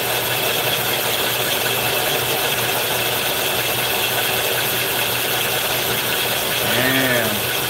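A fishing line spooling machine runs in a higher gear with about 900 yards wound onto the spool, giving a steady mechanical hum with a light rattle and vibration. The sound stays even throughout, with a brief faint whine near the end.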